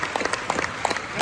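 Audience at a family reunion expo applauding a band, a continuous wash of clapping from a crowd that stays steady and fairly close through the short stretch.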